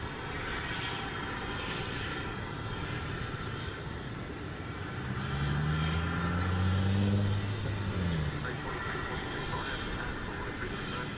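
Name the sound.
airplanes arriving at DFW airport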